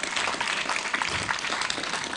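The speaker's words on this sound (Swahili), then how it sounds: "Mpigieni gavana wetu wa kujaa makofi" An audience applauds the governor at the official launch of a material recovery facility in Chakaleri, Mwatate, Taita Taveta County: dense, steady clapping from a crowd, sustained and fairly loud throughout, with no voices over it.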